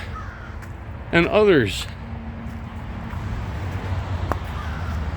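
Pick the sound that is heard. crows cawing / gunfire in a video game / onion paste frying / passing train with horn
crows cawing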